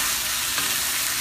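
Vegetables for Korean chop chae stir-fried together in a hot pan, a steady close broadband sizzle that holds evenly throughout with a brief swell near the middle, no voices.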